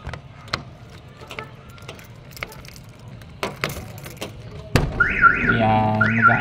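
Clicks and knocks from a Nissan NV350 van's sliding door come first, then a sharp thud, and the van alarm starts its loud, close warbling wail.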